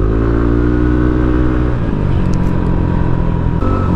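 A Yamaha NMAX V2 scooter with an RS8 DC8 aftermarket exhaust pipe gives a loud, close engine drone whose pitch shifts as it revs, running steadily with no voices.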